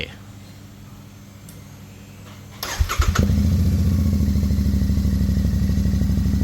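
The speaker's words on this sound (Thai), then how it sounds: "อันนี้เป็นเสียงเดินเบานะครับ" A Royal Enfield Bear 650 motorcycle with a handmade megaphone slip-on exhaust cranks and fires up, then settles into a steady, throaty idle with a low, even burble close by.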